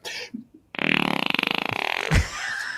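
A noisemaker blows a long, loud, buzzing, rapidly pulsing wet fart sound lasting over a second, followed by a thump. Brief voices are heard before it starts.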